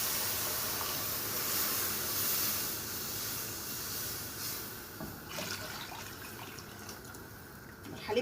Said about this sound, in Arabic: هننزل عليه بالخليط.